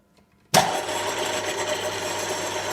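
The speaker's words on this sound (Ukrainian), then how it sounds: "Вмикаємо верстат." A metal-turning lathe switches on abruptly after a short silence, then runs at a steady, close whirring hum with a constant low drone and broadband motor noise, no voices.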